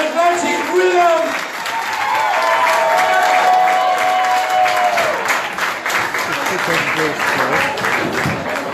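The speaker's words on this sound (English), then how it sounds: "Big round of applause for Atlantic Rhythm." Applause for the Atlantic Rhythm musicians at a live entertainment show for Ohio visitors, a steady sustained clapping from an audience with a voice speaking over its first seconds before the clapping continues alone.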